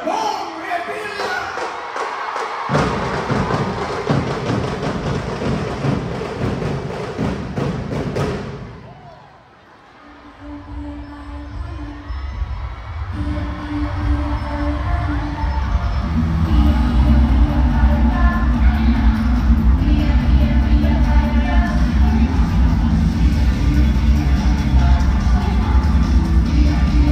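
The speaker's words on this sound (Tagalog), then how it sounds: "Isang malakas na sigawan, Senator Bong Revilla!" A packed rally crowd at a convention center in Lucena roars and cheers for Senator Bong Revilla, the shouting swelling after a brief lull into a loud sustained din, with amplified speech heard at the start.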